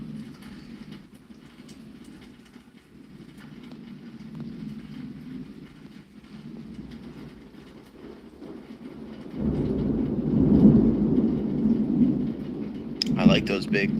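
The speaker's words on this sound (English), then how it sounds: "I like those big thunders." Thunder rolls as a low, distant rumble that swells into a louder, heavier roll in the second half, with steady rain-like hiss beneath.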